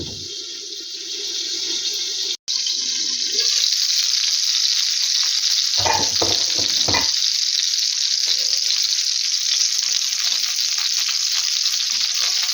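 Cutlets frying in a covered pan over a small flame, a loud steady sizzle throughout with a few clatters of the lid or utensils, no talking.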